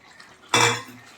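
One sharp clatter of a utensil against a pan as prawns are stirred into a jackfruit curry. It is close and brief, with a short ringing decay and quiet before it.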